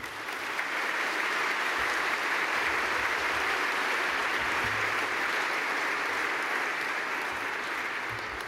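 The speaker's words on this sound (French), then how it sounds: "je remercie de l'applaudir comme cela se doit" An audience at the launch ceremony for the International Year of Light in France gives long, steady applause, a dense, continuous roar of clapping that holds at full strength throughout.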